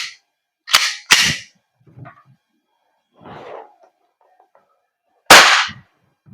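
Jag Precision Taran Tactical Sand Viper airsoft gas blowback pistol firing: sharp, loud cracks, a quick close pair followed after a pause by a single shot, with faint handling clatter and a muffled voice between shots.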